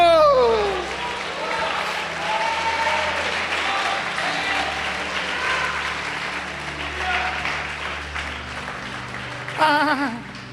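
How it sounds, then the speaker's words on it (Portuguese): Church congregation applauding at a Portuguese-language faith and prayer service, with continuous clapping mixed with music and voices, and a brief louder shout near the end. "Pode aplaudir o Senhor"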